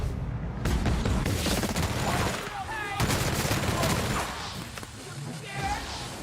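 A big gun fires in The Outer Worlds: heavy bursts of gunfire and booms in rapid succession amid game noise, with a person talking over the shooting.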